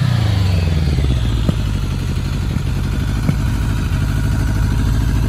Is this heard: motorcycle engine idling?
yes